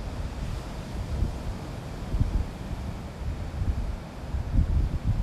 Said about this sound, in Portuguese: Está batendo um leve vento agora no período da manhã com rajadas de até 7 quilômetros.